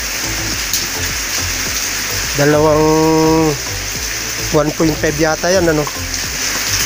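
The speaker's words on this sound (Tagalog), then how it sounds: "Lagyan natin ng tubig." Water is poured into a cooking pot, a steady rushing splash running throughout while someone talks over it in two short stretches.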